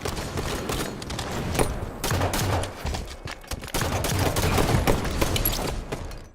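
Dense, rapid gunfire in a first-person shooter video game, overlapping bursts of shots rattling almost continuously, loud and close, with no talking.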